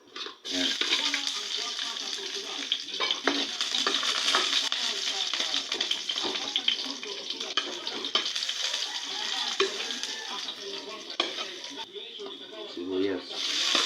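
Garlic sizzles in hot oil in a pan while being stirred, with a continuous frying hiss, scraping strokes and occasional clinks. A voice speaks briefly at the start and end.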